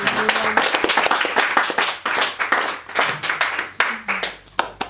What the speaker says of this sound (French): Acclame pour la parole.